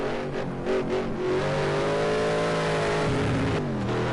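GT3 and GT4 race cars lap Oulton Park in practice, engines howling loud and near with rising and falling revs as cars pass, layered over one another without a break.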